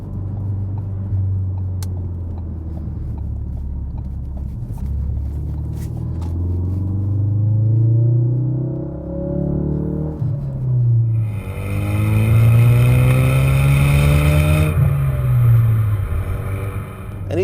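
A Ford Focus RS with an MBRP cat-back exhaust rumbles from inside the car, a deep, steady engine drone that swells as revs rise and the pitch climbs, loud and continuous.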